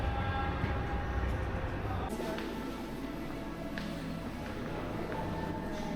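Train at Ba Na Hills in Da Nang, Vietnam, a steady rolling rumble with a shift in tone partway through, heard close under faint background noise.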